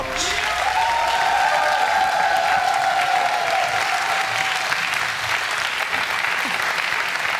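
A German quiz show studio audience applauds steadily as celebrity guests are welcomed: dense, even clapping that lasts the full stretch, with a faint tone sustained beneath it.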